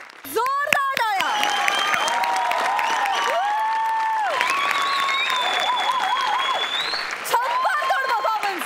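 Steady audience applause at a Marathi comedy stage show, a sustained crowd clapping wash running throughout with music and overlapping voices on top.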